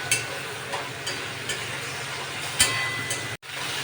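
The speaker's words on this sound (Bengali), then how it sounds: "আমি এবার বাটনাটাকে ভালো করে কষিয়ে নিই।" Spice paste fries in oil for a tilapia curry with potato and cauliflower, a steady close sizzle broken by regular soft stirring taps, one louder scrape and a brief dropout near the end.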